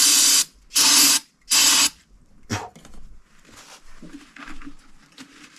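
Three loud hissing bursts of aerosol parts cleaner are sprayed onto the petcock of a 1998 Kawasaki KX125 dirt bike, followed by quieter handling and wiping sounds.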